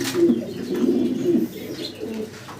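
Deep, throaty cooing of King pigeons, repeated rolling coos close by and fairly loud, fading a little toward the end, with no talk over them.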